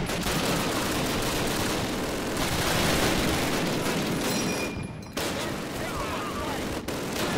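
Sustained machine gun fire in Call of Duty: a dense, loud, continuous roar of rapid shots that breaks off briefly twice before resuming.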